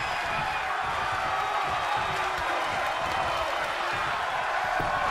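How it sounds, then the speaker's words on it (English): Crowd noise in the WWE 2K23 wrestling video game holds as a steady, dense wash of cheering and clapping with no break. "The sound of this crowd is deafening, and he's asking for more."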